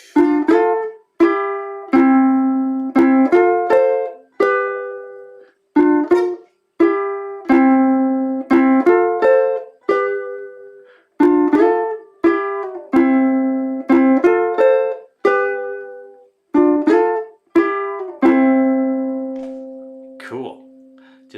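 A ukulele plays the syncopated strum pattern for a song, with crisp repeated chord strokes in a steady, bouncy rhythm and short gaps between phrases. It is played alone, close and clear, ending on a held chord.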